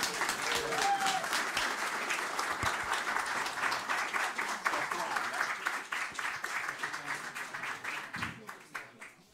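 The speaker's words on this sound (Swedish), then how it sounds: "En varm applåd för David och Märta." Warm applause from a debate-stage audience, dense and steady clapping that starts strong and gradually thins into scattered claps before fading out.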